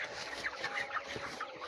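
Broiler chickens on a poultry farm cluck and squawk in a busy, overlapping chorus as they are stirred up. The calls are moderately close and there is no talking.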